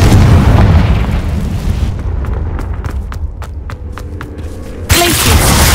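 A Confringo fire spell explodes in the Hogwarts Legacy video game, a loud blast at the start followed by a fading crackling tail of sharp pops, then a second burst near the end.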